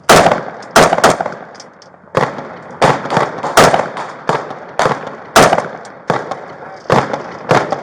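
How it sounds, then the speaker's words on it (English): Repeated gunshots during a police critical incident on a suburban boulevard in Tampa, sharp loud cracks in irregular bursts over several seconds, with background radio chatter and noise between shots. "Firing again."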